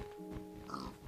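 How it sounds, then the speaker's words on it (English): Blocky pig in the video game Minecraft, old console version, giving a few soft, low oinks and grunts, faint and close, with no talk over it. "Do pigs give me anything?"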